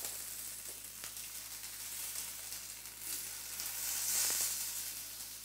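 Prawns stir-frying in a hot pan, a steady close hiss of sizzling with a few clicks of tongs and movement, no talking.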